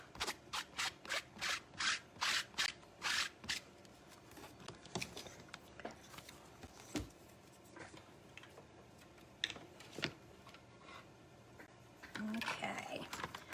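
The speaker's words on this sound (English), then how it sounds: "I'm going to go ahead and clean my little stamp apparatus off before I forget." Quick rhythmic rubbing and scrubbing strokes as a small stamping tool is cleaned off, a run of regular swipes followed by scattered taps and a final burst of rubbing, close and fairly quiet.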